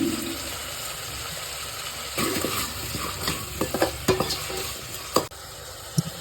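Onions sizzle in a hot pan while a spoon stirs them for a Tamil wedding-style karaikuzhambu curry, a steady frying hiss broken by scraping stirs and a few sharp clinks of utensil against pan.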